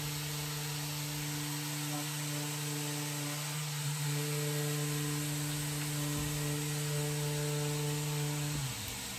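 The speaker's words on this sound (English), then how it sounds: "switching to a 150 grit pad to scuff sand the whole piece" A power sander fitted with a 150 grit pad scuffs a wooden furniture base, giving a steady, close mechanical hum with a smooth tonal whine that holds evenly, then winds down near the end.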